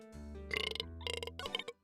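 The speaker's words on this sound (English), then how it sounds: "One last burp for your face before I leave." A long, drawn-out burp from a person, voiced and rumbling in several pulsing bursts, loud and close with no talk.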